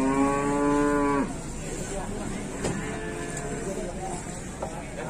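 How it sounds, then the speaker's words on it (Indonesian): At the Gondalegi cattle market, one cow gives a loud, drawn-out moo close by for just over a second. A steady background of market murmur and voices follows. "Ini suasana di pasar sapi Gondalegi teman-teman."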